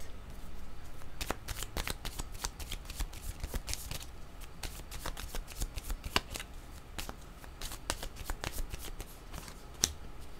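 Tarot-style cards are shuffled by hand in a series of quick, crisp riffling flicks, close and fairly quiet, continuing steadily with no voices.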